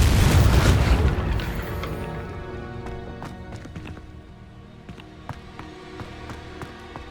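A Confringo spell explosion in the Hogwarts Legacy video game bursts loudly at the start, then a rumbling tail fades under scattered game effects, light clinks and footstep-like taps.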